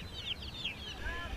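Chickens on a Vietnamese farm with ducks nearby give a few short clucking calls over a low rumbling background, fairly faint and brief.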